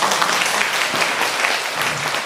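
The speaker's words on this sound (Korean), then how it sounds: "동장님이 박수 아주 먼저 치니까" Audience applause at a Seongnam city hall talk concert, a steady dense wash of clapping filling the whole stretch at moderate loudness with no voices over it.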